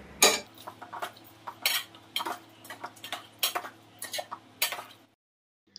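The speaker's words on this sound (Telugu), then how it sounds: "ముందుగానే ఉడికించుకున్న మటన్ ముక్కలను వేసి కలుపుకోవాలి" Boiled mutton pieces stirred into a tangy Andhra-style dosakaya curry: a steady run of sharp metal spoon clinks and scrapes against the pot, closely spaced, ending abruptly in silence.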